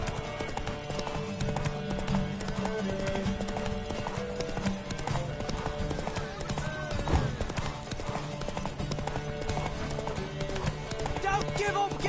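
Horse hooves clip-clop rapidly in The Witcher 3 during a race, a rhythmic galloping beat under music and shouting voices, with a brief whinny.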